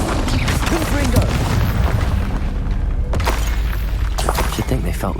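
A Confringo blasting spell explodes in the Hogwarts Legacy video game, a loud booming blast with crackling debris and rumble that fills the scene alongside game effects and brief character speech.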